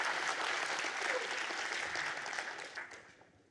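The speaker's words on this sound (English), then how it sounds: "Please, a round of applause for Omer." Applause from a university audience for a Three Minute Thesis presenter, a full, even burst of clapping that tapers off over its last second.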